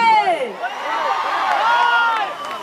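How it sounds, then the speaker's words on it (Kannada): A crowd at the Anegundi Utsav festival cheers and whoops as a sustained, fairly loud wash of voices, with shrill whistle-like calls riding on top for the full stretch. "ದೊಡ್ಡ ಚಪ್ಪಾಳೆ ನಮ್ಮ ರೋರಿಂಗ್ ಸ್ಟಾರ್ಗೆ."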